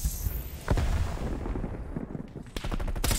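Gunfire in the Call of Duty video game: a few sharp shot bursts at moderate level among quieter game ambience, with a cluster of cracks near the end.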